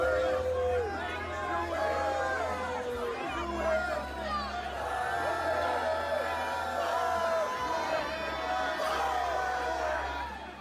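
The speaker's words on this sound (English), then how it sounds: "The crowd was visibly angry at reporters who were there to cover the event" An angry crowd at a Trump rally in Tampa, shouting and chattering over a steady din close by, with whoops and jeers rising through the noise.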